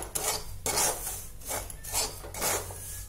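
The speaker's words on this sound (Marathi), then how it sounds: "तुपात चांगला छान भाजून घ्यायचा आहे रवा।" Semolina roasting in ghee in a kadhai, stirred with a spoon in repeated rasping scrapes that come in steady strokes against the pan, close and alone with no talk.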